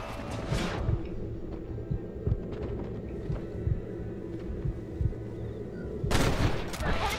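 Gunfire rattles in Red Dead Redemption, a series of sharp shots spread across a fairly quiet stretch with a louder burst near the end.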